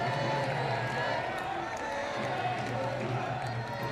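Spectators cheer and clap at a Paralympic boccia match in Paris, a steady crowd roar with scattered applause that rises and falls under commentary.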